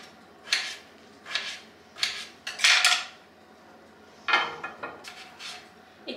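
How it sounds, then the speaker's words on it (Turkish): Knife strikes on a cutting board in short bursts while dicing vegetables such as potatoes, a few quick chops at a time with pauses between, close and fairly crisp. "Ve sebzelerimi doğruyorum."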